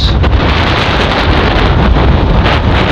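Cold wind roars across the microphone during a motorbike ride, a loud, constant buffeting rush filling the whole stretch with no break.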